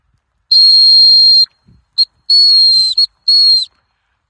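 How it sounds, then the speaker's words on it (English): A dog training whistle blown outdoors to call a dog back: a long shrill blast, then a short pip, another long blast, a brief pip and a final blast, loud and clear with no talking. "by using the whistle and keep calling her back, I got her"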